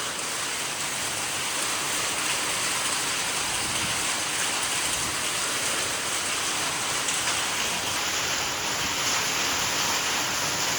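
Hail and rain pound steadily on a cattle shed roof, a dense unbroken roar of drops close by with no pauses.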